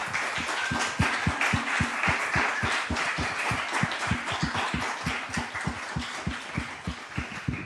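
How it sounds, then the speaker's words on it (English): Applause for a panel at an investing discussion event: a steady, moderately loud spread of clapping with a pronounced regular low thump running through it, continuing unbroken throughout. "let's just give one more round of applause to our amazing panel"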